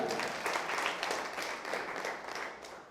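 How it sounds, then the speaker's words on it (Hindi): A seminar audience in Dahod applauds, a steady wash of many hands clapping at moderate distance that holds for the whole stretch and fades slightly at the end. "वाह, जोरदार तालियां।"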